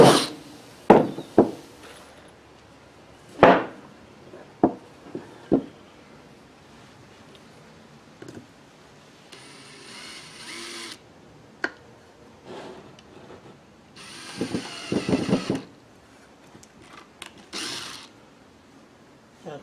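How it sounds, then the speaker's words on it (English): Screws go into wood during a silkscreen shop build: scattered knocks and clicks, then two short bursts of grinding, ratcheting drive noise separated by stretches of quiet handling. "we're going to put a couple screws in"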